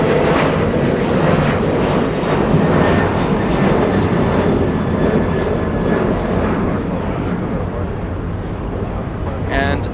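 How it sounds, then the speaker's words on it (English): A United Boeing 787-10 Dreamliner on an LAX taxiway, its jet engines producing a steady, fairly loud whine and rumble that eases slightly toward the end. "It's a Dreamliner 787-10 on Taxiway Hotel."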